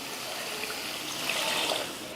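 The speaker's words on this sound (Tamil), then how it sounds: "இந்த மாதிரி மசால் போட்டு கலந்ததுக்கப்புறமா தண்ணி சேர்த்துருவோம்" Water poured into a sizzling masala gravy, giving a continuous close hiss and trickle that swells slightly toward the end, with no voices.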